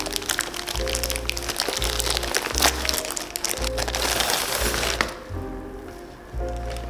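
A plastic shipping bag holding a Bellroy Lite Mini Sling Bag is torn and pulled open, making close crinkling and rustling with sharp crackling bursts that briefly quiet down before the handling resumes.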